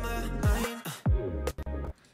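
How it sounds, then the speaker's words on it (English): Sound effect from the Wave Racer sample pack in a production breakdown: a few loud, swooping hits with sharp downward pitch sweeps and brief noisy bursts, clipped and up close, with no talk. "that's just some effects from the Wave Racer sample"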